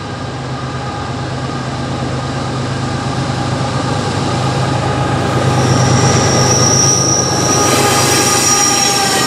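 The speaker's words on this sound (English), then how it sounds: "Here, I caught a northbound coal train led by 2 GE wide cabs." A northbound coal train led by two GE wide-cab locomotives rolls past a pull-off along Canal Road north of Lockbourne, Ohio, with a steady, loud roar of wagons and wheels and sharp wheel squeal rising toward the end.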